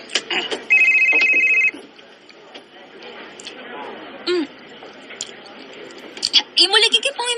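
A cellphone rings with an incoming call in a home, a loud electronic ringtone burst that repeats steadily for about a second, amid household clatter and people chatting nearby.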